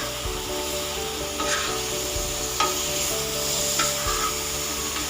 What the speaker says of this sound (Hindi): बिल्कुल हल्के से ऑयल में इतनी अच्छी फ्राई हो जाती है